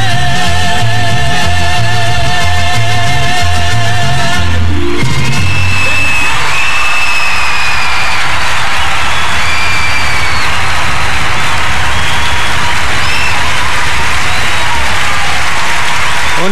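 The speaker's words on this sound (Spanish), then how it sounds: "una ovación muy merecida" Concert audience breaking into a loud, sustained ovation of dense applause with cheers and whoops after a mariachi song, the music fading out as the clapping swells and continues steadily.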